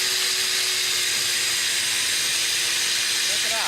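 A DualTools CS300 compact circular saw cuts into marble with a continuous loud, harsh hissing whine, while a person speaks briefly over the noise.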